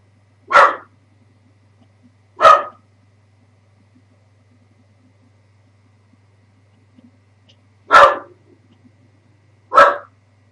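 A single dog barks four times in isolated sharp bursts, clear and fairly loud, with long quiet gaps between barks in an indoor setting.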